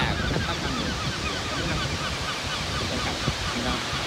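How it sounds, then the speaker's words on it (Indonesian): Broadband wash of ocean surf breaking on the shore beside Tuhawaiki Jack's Point Lighthouse near Oamaru, New Zealand, a steady loud roar throughout with wind-like hiss and no clear separate wave crashes. "Ombak."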